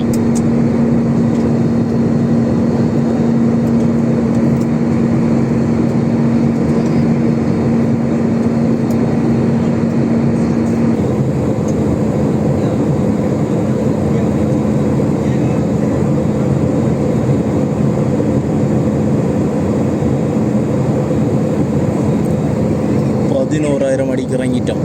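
SriLankan flight UL264 from Saudi Arabia to Colombo fills the cabin with a loud, constant broadband engine and air drone in daytime flight, with a steady low hum running under it throughout.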